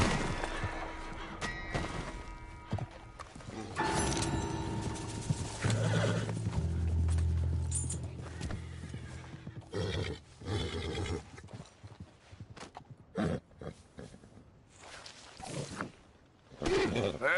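A horse in the game Red Dead Redemption 2 neighs loudly while its hooves clip-clop in an uneven rhythm, with a brief spoken voice mixed in.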